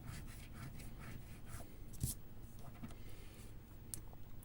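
A lottery scratch card being scraped with repeated short rubbing strokes, close and faint, with one sharper scrape midway.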